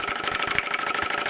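A 1930s Bowman M167 toy steam engine runs while turning a saw, giving a steady fast chugging rhythm with a continuous hiss, close and alone.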